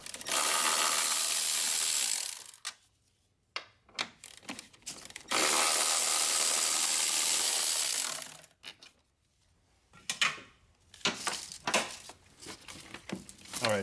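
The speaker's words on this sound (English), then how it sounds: "So we're gonna remove all these bolts so we can remove the battery tray." Ratchet loosening 10mm battery tray bolts on a VW Jetta TDI, heard as long sustained runs of fast clicking up close, broken by short pauses and brief scattered metallic clicks.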